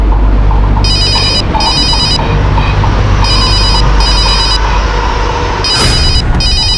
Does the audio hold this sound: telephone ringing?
yes